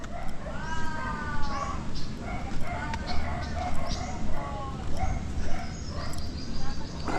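Dogs bark repeatedly at some distance in a Dumaguete neighbourhood, the yips and barks coming in bursts under steady chatter and ambient noise.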